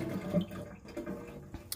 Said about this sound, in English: And now, just rinsing with water, if I squeeze it, it is running clear.